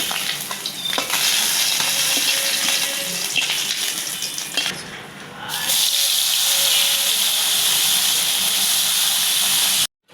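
Small puti fish fry in hot oil with a loud, steady, dense sizzle. The sizzle dips briefly midway and then comes back just as strong.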